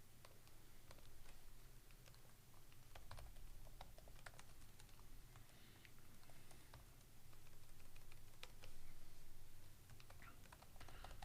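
Typing on a computer keyboard in a soft, irregular patter of key clicks over a low constant room hum, faint and fairly distant.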